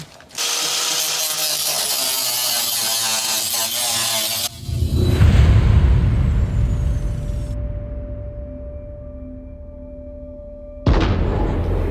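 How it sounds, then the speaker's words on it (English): Bolts being cut off inside a van ceiling during a van conversion, sparks flying: a loud, steady high-pitched cutting whine for about four seconds, then a rumbling, fading run-down and a brief abrupt burst near the end. No talking. "Cutting off these bolts so we can put the ceiling up. There's sparks flying everywhere."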